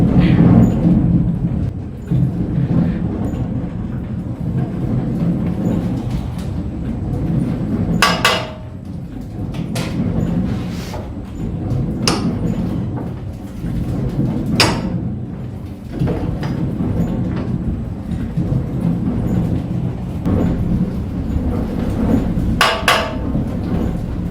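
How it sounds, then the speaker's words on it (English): A grist mill machine grinds corn as it runs up to speed: a loud, rough, continuous rumble with sporadic sharp knocks and clatters, heard close and alone without talking. "I'm going to build up the speed first. It's a horrible sounding thing. It's not a smooth sounding machine."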